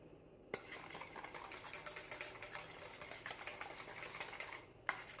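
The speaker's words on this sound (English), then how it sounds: "We're going to whisk all of this together until that's just mixed together in a sauce consistency." Whisk clattering quickly against a bowl while mixing a lemon zest sauce for crab cakes, a close, fast, busy metallic ticking that starts abruptly and runs steadily before a brief stop.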